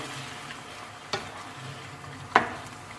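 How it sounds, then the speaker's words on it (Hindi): Mutton fries in oil for namkeen gosht, a soft continuous sizzle with a couple of sharp clanks of a spoon stirring against the pan, no talking. "और इसे भूनेंगे"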